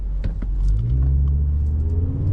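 An Audi RS3 engine revs hard, its pitch climbing steadily from a deep rumble, loud and close with a few sharp clicks over the top.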